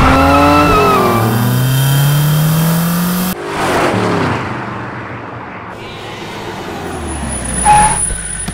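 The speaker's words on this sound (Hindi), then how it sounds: "यहाँ पर गाड़ी क्यों रोक दी?" A car drives and accelerates with a revving engine, then slows and comes to a stop, the engine noise fading to a low idle and road rumble with a short squeal near the end.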